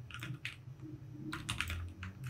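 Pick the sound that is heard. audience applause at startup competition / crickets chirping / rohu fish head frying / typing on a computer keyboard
typing on a computer keyboard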